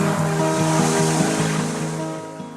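Ocean waves of the South China Sea roll and wash steadily in a continuous, full surf roar with no voices.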